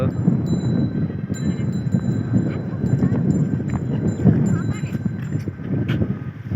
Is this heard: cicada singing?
no